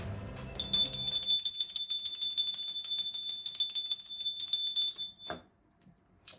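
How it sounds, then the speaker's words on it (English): A small hand bell rings continuously in a rapid, steady jingling shake for about five seconds, bright and close, then stops abruptly with a faint knock or clatter afterward. "I'm still gonna be ringing the little bell"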